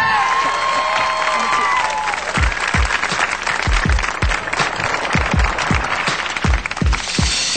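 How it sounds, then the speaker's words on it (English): A concert audience claps and cheers as a music group comes on stage; loud crowd applause runs throughout with a few sharp, close claps standing out and a tonal whistle-like cheer early on. "Give them a big hand clap as they come."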